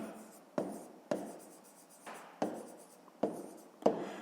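A pen scratches across a school notebook page in short, repeated strokes, each starting with a light tap and trailing off, close and quiet with no voices.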